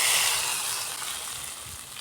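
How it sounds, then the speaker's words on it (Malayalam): Hot coconut oil tempering with mustard seeds, dried red chilli, shallots and fenugreek hisses loudly as it is poured into a pumpkin and bean erissery curry, a close steady sizzle that slowly fades over two seconds, no voices. "കടുക്, വറ്റൽമുളക്, ഉള്ളി എന്നിട്ട് കറിയിലേക്ക് ഒഴിച്ച് കൊടുക്കാം."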